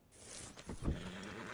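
Horse whinnying in Red Dead Redemption 2, a short, faint neigh with a breathy snort, heard alone.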